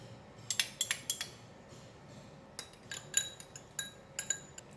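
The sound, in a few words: mixing sesame oil, rice wine, soy and oyster sauce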